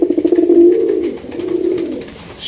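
Pigeons at a large pigeon farm coo in a close, repeated throaty rumble, a rising and falling sequence of soft calls that carries on steadily with no talking.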